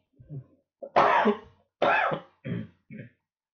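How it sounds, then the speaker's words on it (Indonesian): Several harsh coughs in a row, close and fairly loud, with short silent gaps between them. "sorry banyak batuk ya, hari ini kurang minum."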